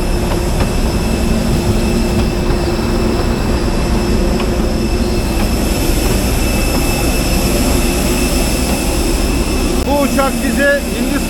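A loud, steady roar of a jet airliner taking off on a flight to Chennai, heard from inside the cabin and filling the whole stretch, with faint talk underneath.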